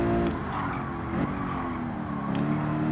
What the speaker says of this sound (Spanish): Y frenada guapa.